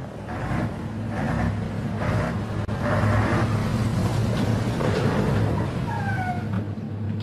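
A city bus drives along in a radio-play scene, its engine a steady low drone with a rumbling hum, with brief whining tones rising near the end.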